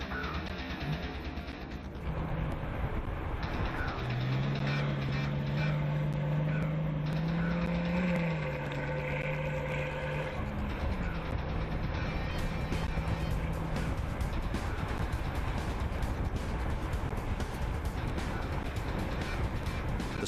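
A 2005 Maybach Exelero's engine accelerating: a loud, close, steady droning tone that rises and holds for several seconds, then fades into a broad rushing roar.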